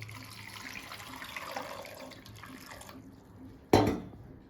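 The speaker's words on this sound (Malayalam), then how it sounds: "അപ്പോൾ നമുക്ക് ആവശ്യത്തിനുള്ള വെള്ളം ഒഴിച്ച് വേവിച്ചെടുക്കാം കേട്ടോ." Water is poured into a pressure cooker holding chopped sweet potato pieces. It runs as a steady trickle, then ends with a sharp splash or clank.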